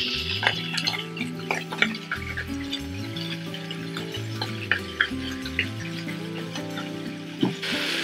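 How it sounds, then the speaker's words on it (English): Smoked bacon lardons crackle and sizzle in a pan while a utensil scrapes and stirs, with occasional clinks of metal. "This is smoked bacon lardons, if you can hear me through the sizzle."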